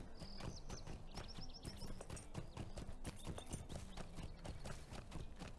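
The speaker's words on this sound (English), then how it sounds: "I might as well just take the slow horse." Hooves clip-clop steadily as a slow horse is ridden toward Hobbiton in a Lord of the Rings video game, with brisk, even rhythmic hoofbeats and occasional light chimes over them, with no voices.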